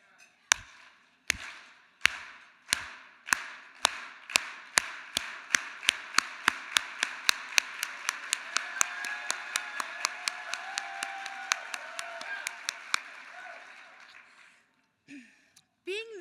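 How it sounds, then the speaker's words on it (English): An audience at the NEA ESP of the Year award ceremony performs a solidarity clap: single group claps begin slow and spaced, then steadily speed up into a rapid, dense patter before breaking off, with brief voices at the end. "congratulate all the ESP of the Year nominees with the Solidarity Clap"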